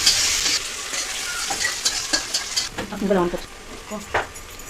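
Onions fry toward browning in a pan with an initial loud hiss fading to a softer sizzle, broken by spoon scrapes and stirring clatter, while a person talks over it.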